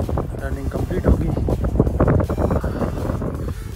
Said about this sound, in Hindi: इतनी तेज़ हवा चल रही है ना,